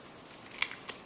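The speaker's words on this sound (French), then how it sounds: "Et on va venir couper." Scissors snip through folded paper for a small craft piece, giving a few quick, close, crisp cuts in near silence.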